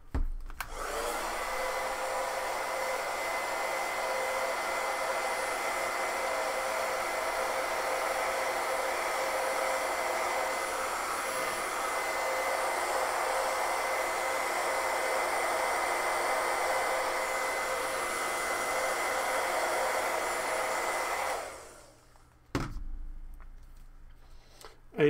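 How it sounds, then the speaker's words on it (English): A hair dryer blowing steadily on painted foam weapons, a loud close continuous whoosh lasting around twenty seconds, then cutting off, followed by a brief restart. "hairdryer"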